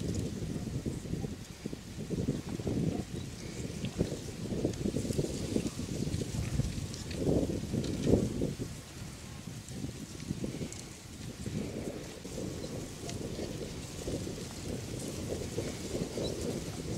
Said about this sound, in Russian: Фух, погодка ветреная